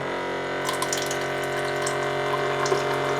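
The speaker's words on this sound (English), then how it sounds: "now to start filtering water, place a vessel underneath the dispenser, like so" Filtered water streams from the dispenser of an Aquasana Clean Water Machine countertop filter, model AQ-CWM2-B, into a vessel below, a steady close splashing trickle with a faint humming undertone and no talking.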